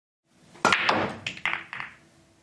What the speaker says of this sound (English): the cue ball will hit the 11 very squarely